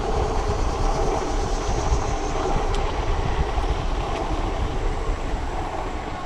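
E-bike wheels rumble and clatter over a long wooden boardwalk on a greenbelt trail, a continuous rough rattling with wind noise, steady from start to finish.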